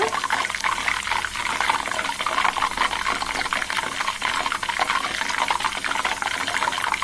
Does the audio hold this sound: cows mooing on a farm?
no